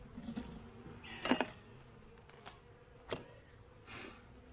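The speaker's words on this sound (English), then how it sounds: "The bees just fly and fly every day." Honeybees flying around a hive on a warm day, faint buzzing passes of individual bees coming close and fading away over quiet outdoor background.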